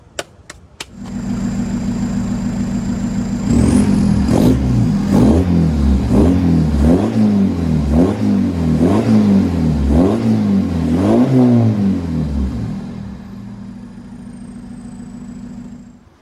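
A car engine with a freshly repaired exhaust leak idles, then revs repeatedly in rhythmic surges with a throaty exhaust rumble before settling back to idle.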